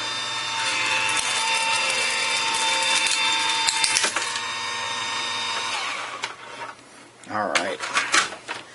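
A Vagabond die cutting machine cranks a die and overhead transparency through its rollers to cut a stencil shape, giving a steady, loud mechanical whir and grind that fades near the end as someone speaks briefly.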